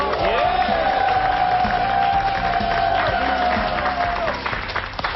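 A steady wash of applause from a Korean TV variety show's studio audience fills the whole stretch, loud and continuous, with a sustained musical tone running underneath.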